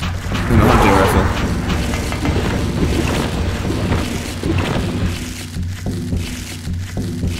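Shotgun firing in the survival-horror game Silent Hill, with a loud booming blast near the start over a dense, rumbling game soundtrack and mechanical clatter, while someone talks throughout.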